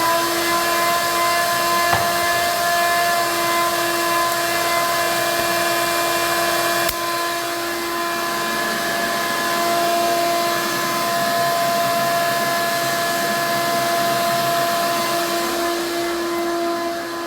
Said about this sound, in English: vacuum this out.